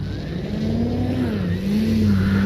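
E-flite Carbon Z T-28 RC warbird on a takeoff run from freshly cut grass, a loud sustained electric motor whine that rises and wavers in pitch, heard close with no voices.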